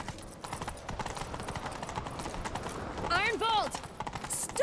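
Roach, a horse in The Witcher 3, gallops in a rapid, steady clip-clop of hooves under game sounds, followed by a short, clear whinny near the end.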